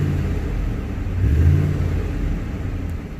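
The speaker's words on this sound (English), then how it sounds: "We're going to go ahead and push on the gas a little bit." A 2006 Dodge Ram 1500 engine idles as a low steady rumble, swelling briefly into a mild rev when the gas pedal is pressed, then settling back.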